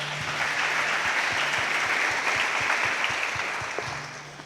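A church congregation applauds steadily, a dense, even wash of many hands clapping at close range, holding at a constant level throughout before tapering slightly at the end.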